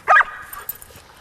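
A dog gives a single short bark during an obedience training session, close and loud, then the room falls quiet with faint background noise.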